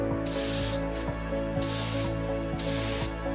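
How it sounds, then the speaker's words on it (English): Yellow paint is sprayed onto a car panel in three short hissing bursts, each lasting about half a second, close by over a steady background hum. "so we can spray yellow again"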